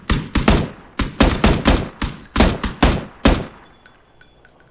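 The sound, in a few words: gunfire in the video game PUBG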